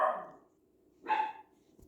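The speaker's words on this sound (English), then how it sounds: "The morning barking, you guys." A dog gives two separate barks about a second apart, moderately loud and slightly distant, with quiet in between.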